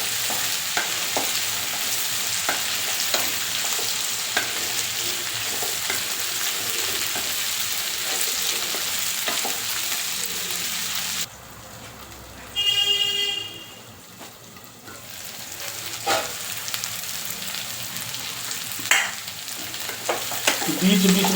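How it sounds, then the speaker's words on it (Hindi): Spiny gourd (kakoda) and onion sizzle steadily as they fry in a pan, with clinking stirring strokes throughout; a brief quieter gap midway, then the hiss and scraping resume, close and fairly loud. "भूनने से इसकी प्रकृति जो है बदल रही है।"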